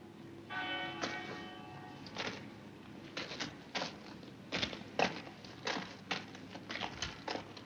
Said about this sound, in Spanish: Y una campana de iglesia a lo lejos.